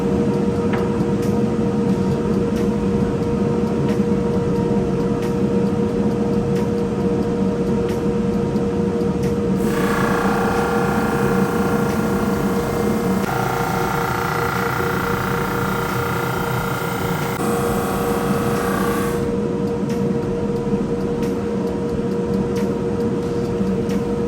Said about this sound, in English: you run one side of it through, flip it 180, run the other side through, and that's how you pretty much sand up to that 42 inches